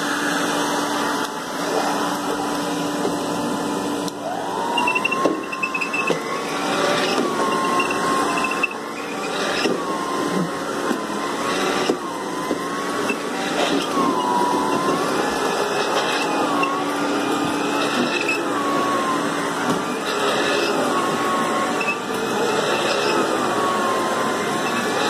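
An Electrolux vacuum cleaner runs steadily with its power nozzle grooming carpet, a continuous motor whine with a fairly even hum and faint shifting tones throughout.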